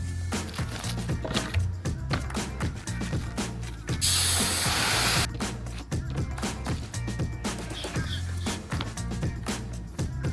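A handheld spray bottle mists a water-based pest control mix in loud bursts against the walls of a home, with a sustained hiss of about a second amid background clatter and music-like noise.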